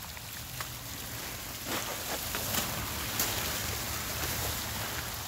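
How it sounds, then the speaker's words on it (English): Water flowing out of a pipe below a tilted barrel collector at a low-head turbine test, a faint, steady rushing patter with scattered drips, continuous and without voices. "So I have the water coming down here."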